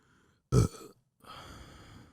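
A single loud, short burp bursts out, followed after a pause by a softer, drawn-out throaty rasp, heard alone without talk.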